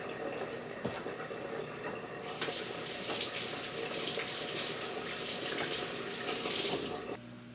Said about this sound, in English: Wash my fork.